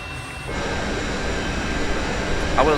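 Jet engine of an M-346 trainer in a flight simulator game, a steady broadband roar building after a brief quieter start as the aircraft rolls for takeoff over the Lake District, continuous and close.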